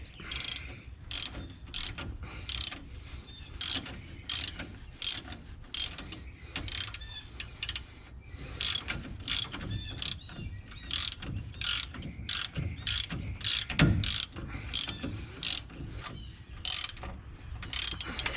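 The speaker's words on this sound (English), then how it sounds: "3/4 inch wrench, 3/4 inch socket." A ratchet fitted with a 3/4 inch socket clicks in quick repeated bursts while tightening a shock bolt on a Jeep Wrangler YJ, close and fairly loud with no talking.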